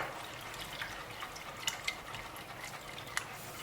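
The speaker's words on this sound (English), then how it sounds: "I'm going to be adding more water because I don't like it too thick." Water is poured into a pot of cooking pap, a faint, steady splashing trickle with a few small drips and clinks, close by and without talk.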